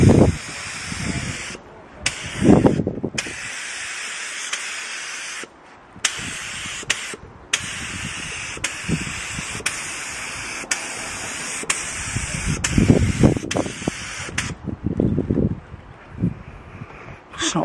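A 3M Performance spray gun sprays paint onto a panel and mouldings outdoors in wind, giving long loud hissing bursts separated by brief pauses, with gusts of wind rumbling underneath.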